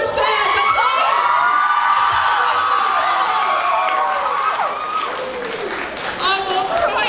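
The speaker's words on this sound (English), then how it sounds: "It feels weird to applaud something so sad," A cosplay competition audience at Overload NZ 2025 applauds and cheers steadily, with whoops and excited voices over dense clapping throughout, easing slightly near the end.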